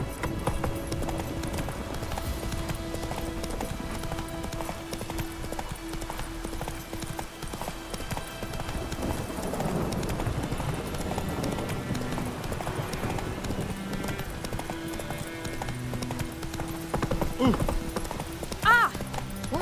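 Roach, the horse from The Witcher 3, gallops in a steady rapid clip-clop of hooves that runs throughout, mixed with game music and ambience, and a brief whinny near the end.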